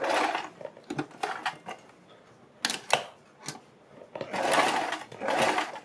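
A sewing machine stitches fabric along the edge of buckram while making a suit or kurti neck design, in a few short bursts of running, with pauses between and two longer runs near the end.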